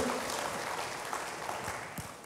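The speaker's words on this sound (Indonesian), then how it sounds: "Berikan tepuk tangan dulu bagi Tuhan." A church congregation applauding together, a dense spread of clapping that carries on steadily and slowly fades over a couple of seconds.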